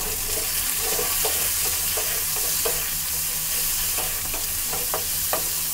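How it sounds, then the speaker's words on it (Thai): Diced chicken frying with garlic in a pan, a steady close sizzle broken by occasional stirring scrapes, with no one talking. "หลังจากกระเทียมเริ่มหอมนะครับเราใส่เนื้อไก่ลงไปได้เลย"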